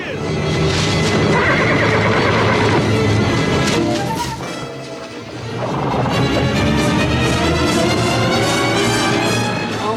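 Loud, shrill neighing from horses in the film Gymkata rings out over a busy, noisy scene, with a brief dip in the middle before the whinnying picks up again.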